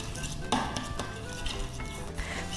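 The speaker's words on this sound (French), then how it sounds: "je vais simplement un petit peu mélanger le tout" Solidified homemade sunscreen is stirred in a container, making soft scraping and clinking strokes up close, with a couple of sharper knocks and a faint background hiss.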